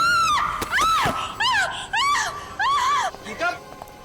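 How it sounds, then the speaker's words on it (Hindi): A woman screams in several rising and falling cries with gasping breaks between them, loud and close. "क्यों चिल्ला रही हो?"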